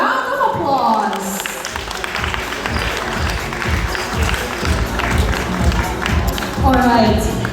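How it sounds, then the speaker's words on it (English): An audience at a Christmas tree lighting ceremony in Makati breaking into applause, a dense patter of clapping that holds steady through the whole stretch with crowd noise and a voice talking over it. "give yourselves a big, warm round of applause"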